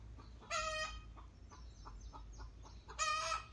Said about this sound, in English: Okay, chicken, quiet. Bird, you're not laying an egg.